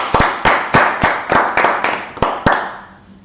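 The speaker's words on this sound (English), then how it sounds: "Everybody clap it up." A group claps in a loose, uneven rhythm at a Harlem gathering, about nine sharp claps spaced roughly a third of a second apart, fairly close and loud, then fading out.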